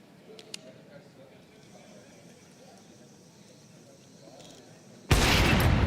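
A no-scope sniper shot in a Counter-Strike esports match: a sudden loud, broad blast cuts in after several seconds of low, quiet game ambience and rings on to the end.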